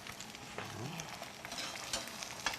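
Pork jowl frying in a frying pan for Vietnamese spring rolls, a soft, quiet sizzle with faint crackles and an occasional scrape of a utensil, close and steady with no talking.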